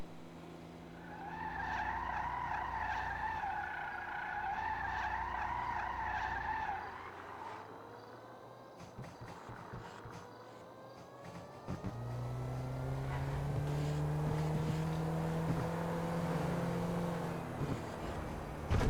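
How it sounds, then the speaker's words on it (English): The Karin Vivanite car in GTA Online drives with a revving engine and exhaust note sweeping up and down, alongside bursts of tire squeal and skidding, at a moderate, steady level. "So it does actually have an exhaust sound."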